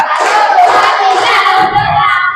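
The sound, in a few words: schoolchildren clapping in counted rhythm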